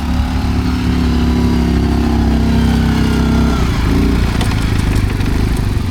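A Linhai ATV quad bike with lowered tyre pressure drives through off-road mud and sand; its engine drones loudly and steadily, close by, with a shift in pitch partway through as the revs change.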